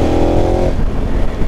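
A KTM Super Adventure 1290 motorcycle accelerating hard in fourth gear, a loud close engine roar with a rising whine that fades into dense wind and road noise.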